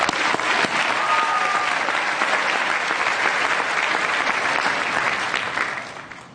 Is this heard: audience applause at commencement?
yes